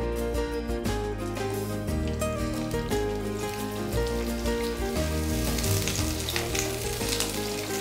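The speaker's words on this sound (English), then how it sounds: "Waiting for the oil to get heated, I just throw in the petaled onions." Sliced onions fry in hot oil, crackling and sizzling continuously up close for several seconds, with music playing underneath.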